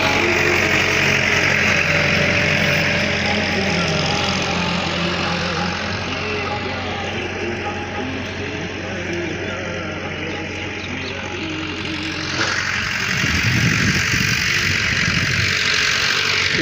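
A tractor engine pulling a laser land leveler across a farm field in hot sun, a steady loud mechanical drone that dips slightly mid-way, then swells with heavier low rumbling toward the end.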